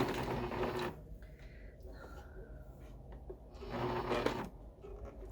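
A sewing machine stitching a pillow with a centered zipper runs in two short close bursts of rapid whirring, separated by a quiet pause with faint handling noises.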